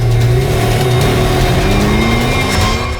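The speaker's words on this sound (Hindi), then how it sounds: "गाड़ी बहुत बड़ी थी और सर जीप जैसी।" A large red jeep-like car drives off, its engine revving loudly and steadily throughout with no pause, close and dominant with no voices heard over it.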